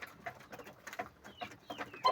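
Five-day-old chicks peep faintly in a small flock, with soft, rapid, overlapping cheeps scattered through the moment and no voices over them.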